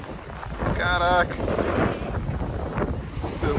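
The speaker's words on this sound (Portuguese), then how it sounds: "abrindo a vela, e aqui a vela, 32 pés esse veleiro" A 32-foot sailboat under open sail heels in the wind, with steady broad rushing of wind and water hiss throughout, while people talk and exclaim briefly over the noise.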